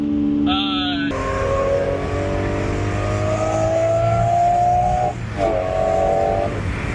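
A loud car exhaust that shoots flames roars with a steady rising engine note, then cuts out for a moment and picks up again. Excited voices can be heard around it.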